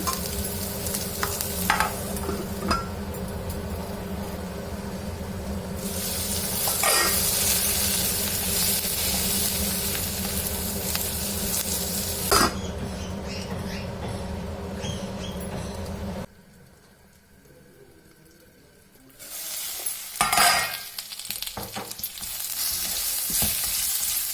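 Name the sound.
capsicum and mushrooms frying in a pan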